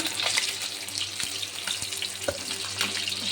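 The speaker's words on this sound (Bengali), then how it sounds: "এই মাছ ভাজা হচ্ছে।" Fish frying in oil in an iron pan, a steady close sizzle with scattered pops and crackles throughout, no talking.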